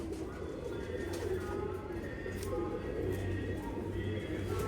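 Domestic pigeons cooing in a loft, soft low repeated coos layered under a steady background murmur, continuous and fairly close throughout.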